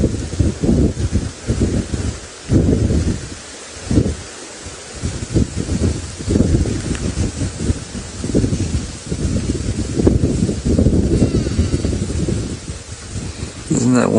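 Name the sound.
grass rustling in the wind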